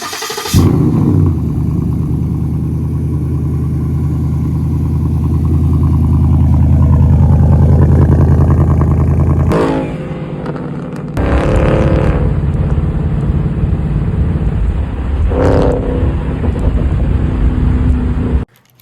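A Ford Mustang GT V8 with a muffler delete rumbles loudly up close, swelling through a long rev before dropping back, then barks through several shorter throttle blips; no voices.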